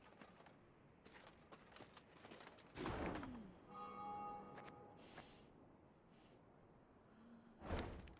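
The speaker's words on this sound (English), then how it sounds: "they heard the bells of a temple to Mother Melitele, situated at some distance" Temple bells of a shrine to Melitele ring at a distance along a high road in Thronebreaker: The Witcher Tales, a few struck tones with lingering hum between whooshing ambient swells, moderately loud, no talk.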